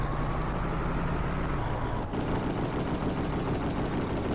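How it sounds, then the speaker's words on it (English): Vehicle-mounted gun fire in the Reign of Fire video game, a dense rapid rattle of shots over a rumbling engine, loud and continuous with a brief break partway through. "Primary fire is just a normal gun, and then the secondary fire is a water hose."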